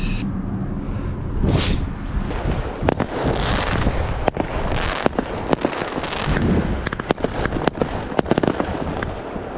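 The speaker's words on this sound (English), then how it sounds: "Sergey, there's fireworks." Fireworks going off outdoors in Ukraine, with sharp scattered cracks and pops over a dense rumbling wash of bursts, loud and continuous, partly buffeted by wind noise.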